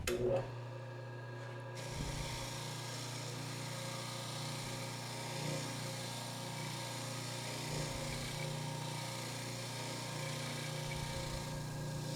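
Worn wire wheel cleaning a Wilton clamp, a steady motor whine with grinding and brushing rasp, quiet and continuous, with a sharp start at the beginning and brief scuffs throughout.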